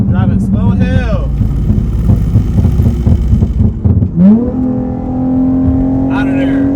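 A car driving slowly gives a low, rumbling engine drone that holds steady and then rises in pitch as it revs, heard close up beneath someone talking, with some wind noise.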